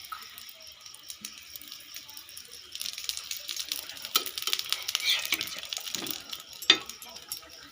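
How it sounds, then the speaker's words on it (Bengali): Soft sizzling and crackling of food frying in a little oil over very low heat, quiet at first and growing louder midway, with a few sharp clinks from a utensil. "এটা খুব কম আঁচেই ভাজতে হবে আর খুব কম তেলেই এটা ভাজা হয়ে যায়।"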